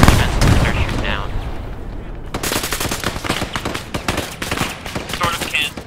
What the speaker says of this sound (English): Primo, can you start shooting through these bushes right here that I'm pointed at?